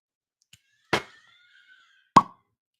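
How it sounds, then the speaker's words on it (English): A cork pops from a bottle of J.T. Meleck rice whiskey, two sharp close pops about a second apart in an otherwise quiet room, with no talk. "Nice little cork pop."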